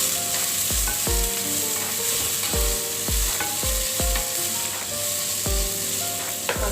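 Squid for adobong pusit sizzles loudly in a hot pan, with a steady frying hiss broken by repeated scraping strokes of a spatula at an even rhythm.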